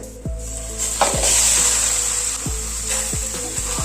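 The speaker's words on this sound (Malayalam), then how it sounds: "ഈ സമയത്ത് നമ്മൾ കഴുകി വൃത്തിയാക്കി വെള്ളമൊക്കെ ഊർന്നു പോകാൻ വെച്ചേക്കുന്ന ചിക്കൻ എടുത്ത് നമ്മൾ ചേർത്ത് കൊടുക്കും." Washed chicken drops into a pan of roasted spices and bursts into a loud, steady sizzle, with a few clinks and scrapes of a utensil against the pan and no voices.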